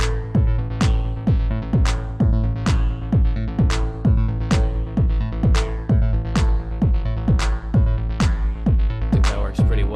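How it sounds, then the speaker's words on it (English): Techno beat built in Ableton Live around a processed clap with a vocal-like metallic timbre, hitting in a steady rhythmic pattern over sustained tonal layers, loud and upfront. "Now it just sounds like this weird kind of vocal metallic timbre that's part of the clap."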